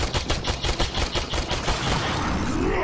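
Rapid enemy gunfire in the video game Warframe, a dense burst of repeated shots that is loud and close, then a sustained rushing wash, with no talking.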